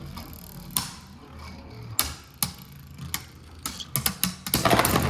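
Beyblade Burst spinning tops clash in a plastic stadium, sharp scattered clacks and ticks that grow quicker and denser toward the end over a faint whirring hum.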